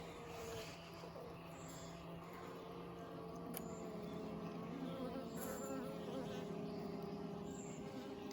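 Honeybees in a hive with a newly introduced queen hum in a steady, dense drone, with individual bees buzzing nearer now and then over the constant low hive sound.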